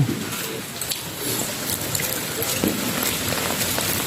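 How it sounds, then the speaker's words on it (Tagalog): A steady, dense hiss of heavy typhoon rain pouring outdoors, constant and fairly loud, with scattered drips and splashes. "Walang tigil talaga ang ulan, no?"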